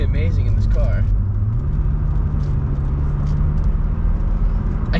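A stock Saab 9-3 TurboX engine drones steadily while driving in cold weather, a low rumble with a slight rise in pitch partway through, heard from inside the car under road noise.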